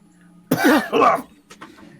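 A player in a tabletop role-playing game voices a character's cough after pixie dust is thrown in its face: a single close, rough cough that bursts out loudly, then a fainter throaty follow-up.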